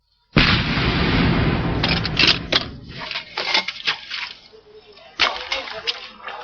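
Artillery guns fire at high altitude on the Siachen front, one heavy blast booming out and rolling into a long echo, followed by several sharper cracks and reports fading unevenly across the mountains.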